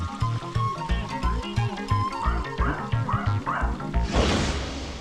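A dog barks in a fast, steady series of sharp, loud, close barks, a few with a whining edge, before a brief noisy crash-like burst near the end.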